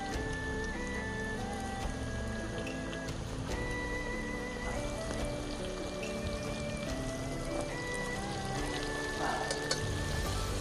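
Oil bubbles and sizzles steadily as oyster mushrooms deep-fry in a cast-iron cauldron, a dense crackling hiss that never lets up.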